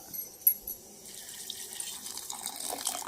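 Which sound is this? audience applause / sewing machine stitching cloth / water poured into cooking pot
water poured into cooking pot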